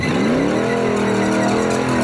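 A P76-engined home-built 4x4 revs hard climbing a steep hill in off-road competition, a loud, close engine roar rising in pitch over two seconds.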